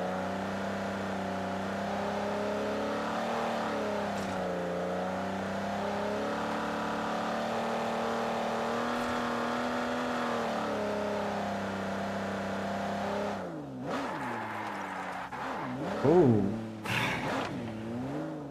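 Aston Martin cars in the BGMI mobile game rev their engines with boost, a steady droning whine with rising and falling pitch, then sharper surging revs and squeals near the end.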